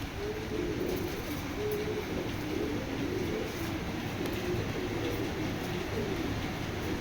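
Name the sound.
racing pigeons cooing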